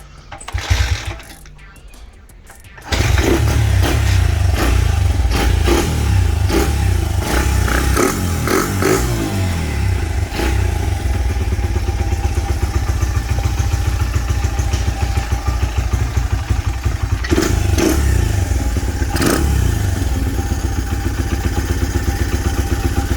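A Honda mini bike engine running steadily and loudly up close after a carburetor swap, after a brief sputtering start, with a few blips of revving and throttle changes over a constant engine drone.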